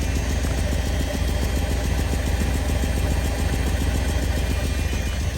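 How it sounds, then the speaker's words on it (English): A 1985 Mercedes 500SEC Euro coupe idles close by with an exhaust leak, its engine chugging in a steady, slightly uneven rhythm with no voices over it. "we have here an obvious exhaust leak"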